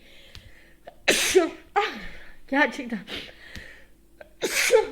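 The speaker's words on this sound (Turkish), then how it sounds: "Nereden geldi bu hapşuruk?" A woman sneezes in a children's maths lesson, several sharp bursts with short vocal exclamations in between, close and fairly loud, with brief talk around them.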